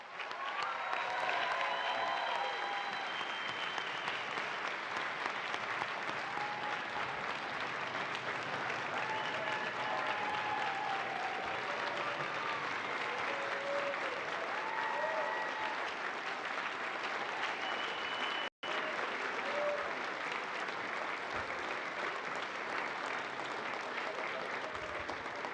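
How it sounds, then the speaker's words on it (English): Sustained applause from a large ceremony audience greeting graduating UAE astronauts, steady broadband clapping with a few cheers, filling the space for about twenty-five seconds with one brief dropout near the end. "Let's give them a big round of applause."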